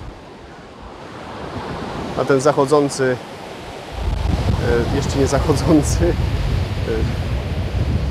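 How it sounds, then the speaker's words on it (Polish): Ocean waves breaking at sunset make a steady, roaring wash under wind noise, growing louder and fuller midway, while someone talks over it. "jeszcze na te piękne fale"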